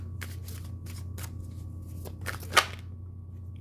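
Tarot cards being shuffled by hand to draw a card, a series of soft riffling bursts and flicks ending in one sharper snap, close and quiet over a low steady hum, with no talking.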